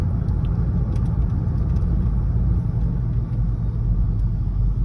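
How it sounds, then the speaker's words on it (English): A truck rolls past with a heavy road rumble and engine drone that holds steady and fairly loud throughout, swelling slightly and easing, heard alone without talk. "Daddy, there's that truck."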